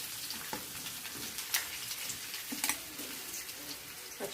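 Onion and cumin seeds sautéing in a pan for vegetable bread upma make a soft, steady sizzle with a few light clinks of a stirring utensil. The sound is faint and close.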